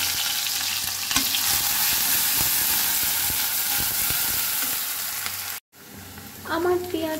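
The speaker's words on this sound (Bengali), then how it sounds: "এখানে আমি সেচে নিছি রসুন আর পেঁয়াজ, এগুলো দিয়ে আমি এখন এটা বাগার দেব।" Chopped garlic and onion hit hot oil as a tempering for khichuri, giving a loud, steady frying sizzle with crackles for several seconds before it cuts off briefly and resumes more quietly.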